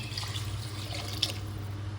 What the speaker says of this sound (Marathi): आता ह्याच्यामध्ये आपण आता मस्त गरम पाणी टाकून घेऊया